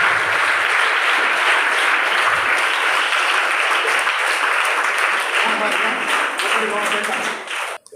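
Loud, dense audience applause fills a hall for several seconds, thinning slightly near the end as a voice begins to speak under the clapping.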